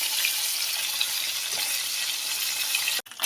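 Koi fish frying in hot oil, a dense, even sizzle that holds steady before cutting off abruptly near the end.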